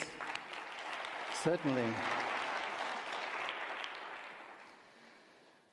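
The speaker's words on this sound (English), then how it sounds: "Round of applause." Audience applause fills a conference plenary hall at a landscapes forum in Bonn, a steady wash of clapping that fades toward the end, with a brief spoken word and voice partway through.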